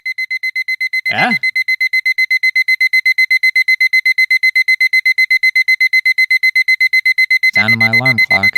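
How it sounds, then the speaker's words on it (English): Steady electronic alarm clock beeping repeats rapidly and loudly throughout, with two brief bursts of other sound breaking in near the start and end. "Sound of my alarm clock is a little delayed,"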